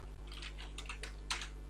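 An email being typed on a computer keyboard: a short run of soft, close key clicks over a low steady hum, with no talking.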